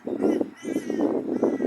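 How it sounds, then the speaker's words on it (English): Several crows caw outdoors in harsh, drawn-out calls that come close together and sound fairly near and loud, with no other sounds competing. "next minute all the crows come over"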